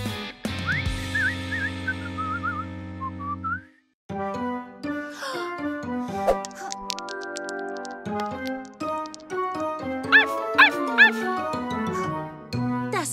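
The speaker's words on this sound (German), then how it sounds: "Das war definitiv Hundebellen." Cartoon puppy yips and small barks in a Polly Pocket toy-dog scene, a few quick high calls in the first few seconds over bright background music that carries on throughout.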